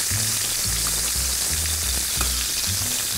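Turkey roast searing in a hot pan, a dense continuous sizzle and crackle at close range, steady and loud throughout with no voices.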